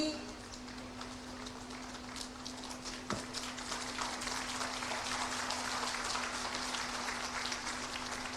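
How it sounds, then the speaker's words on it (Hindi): Applause from an audience at an MoU exchange ceremony held before a Chief Minister at a World Trade Center foundation-stone event, a steady dense patter of many hands that runs throughout, with a faint voice over it. "चाहूंगी एक बार जोरदार तालियां होनी चाहिए इस ऐतिहासिक क्षण के लिए"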